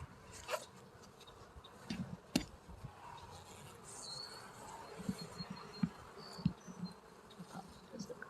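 Bees hum softly around the edge of a hive outdoors, a faint continuous drone with scattered closer buzzes and a few light knocks.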